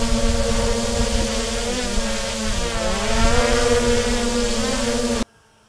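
An MJX Bugs 3 quadcopter drone fitted with Hubsan H501s propellers flying, a steady high-pitched motor whine that rises and dips in pitch as it maneuvers, close and continuous before cutting off abruptly.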